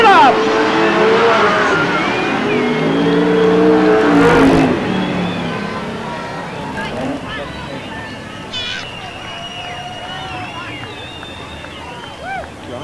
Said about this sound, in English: Final corner, the checkered flag waiting, and it's Gene Cook at Tasmania, the winner